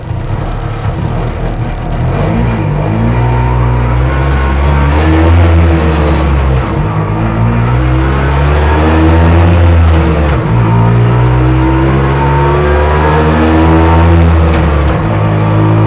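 An oddball trike engine, Honda Caren or Bajaj, roars loudly and continuously at close range, revving with a rising and falling pitch throughout.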